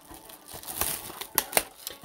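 Wrapping on a 2021 NBA Hoops trading card hobby box is torn and crinkled up close, with a few sharp ripping bursts among soft rustling over about two seconds.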